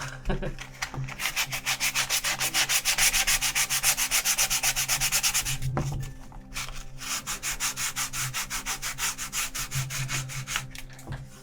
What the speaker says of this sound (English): some finer grit sandpaper might do a little better for this, because we don't want to take too much off.